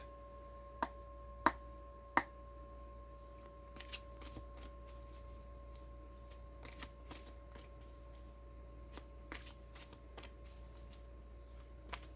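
Tarot cards being shuffled, heard as soft, quiet riffling and a few sharper card snaps near the start, then scattered light flicks over a low steady room hum.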